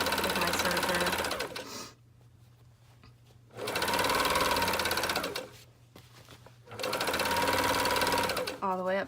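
A serger stitching a gusset seam on tights runs in three loud, steady bursts of rapid mechanical whirring, with a brief stop between each run and a faint quiet hum underneath.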